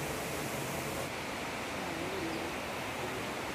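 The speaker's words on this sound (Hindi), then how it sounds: "here is the Choi waterfall at Baksyad Valley." Chhoie waterfall in Baksyad Valley, Himachal Pradesh, heard as a steady broadband roar of falling water that fills the whole clip evenly, with a faint bird cooing softly in the background.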